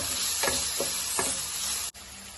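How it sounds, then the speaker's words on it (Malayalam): Tomatoes sauté in a pan with onion and ginger garlic paste, giving a steady sizzle and frying hiss broken by a few soft stirring scrapes, close and without talk. "ഈ തക്കാളി നന്നായിട്ടൊന്ന് വഴറ്റിയെടുക്കും"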